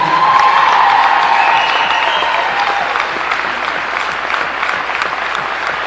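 Crowd at a women's college basketball game applauding a senior player during senior recognition: loud, sustained applause filling the gym, with faint voices and cheering mixed into the steady clapping.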